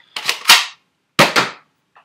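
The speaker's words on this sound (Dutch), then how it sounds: "Dat is een hard schot." Nerf Zombie Strike Sidestrike blaster firing hard shots: two sharp, loud spring-powered pops, each with a quick follow-up rattle, separated by a pause and ending with a faint click, no talking.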